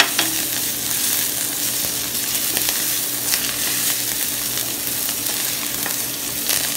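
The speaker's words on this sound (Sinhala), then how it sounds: "කරපිංචි ටිකත් එකතු කරනවා." Curry leaves and spices such as turmeric and chili powder sizzle steadily in hot oil while tempering ivy gourd, with a continuous loud frying hiss and small crackles throughout, no voices.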